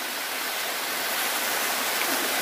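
Water rushes steadily at a natural spring, a dense, even hiss of flowing water close by, with no voices heard over it.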